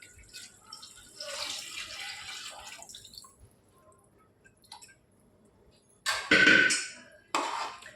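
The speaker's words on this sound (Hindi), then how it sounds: "तो इसके अंदर हम पानी ऐड कर देंगे मटन का।" Water poured into a pot of cooking mutton khichda at home, a short splashing pour near the end after quieter kitchen sounds, with a brief second splash following.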